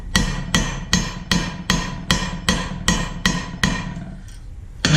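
A hammer strikes copper pipe to shape a rose, ringing out in about ten evenly spaced, loud, close metallic blows, then stopping.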